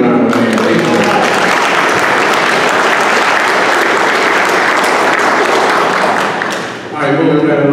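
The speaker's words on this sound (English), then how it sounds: "Let's give them a round of applause." Sustained loud applause from a large crowd at a golf league event, steady clapping for about seven seconds before fading out.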